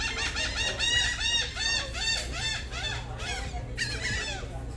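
Seagulls calling at sea on a cruise ship's deck, a dense run of loud, repeated squawking cries overlapping one another against a steady background hum.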